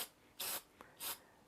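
Laser cut MDF brick model pieces for an HO scale layout are lightly spray painted with two short, soft hissing bursts from a spray can, quiet and close, with a faint tap between them.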